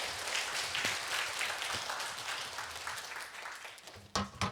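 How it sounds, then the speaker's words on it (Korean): A church congregation at a Friday evangelism service claps in praise to God, a dense, steady wash of applause filling the room throughout, with a brief louder burst of claps near the end. "다시 하나님께 영광의 박수를 드리겠습니다."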